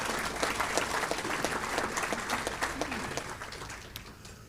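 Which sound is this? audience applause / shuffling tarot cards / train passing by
audience applause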